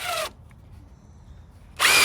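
A cordless drill drives a screw into a deck rim joist in two short, loud whirring bursts, separated by a brief pause with quiet background hiss.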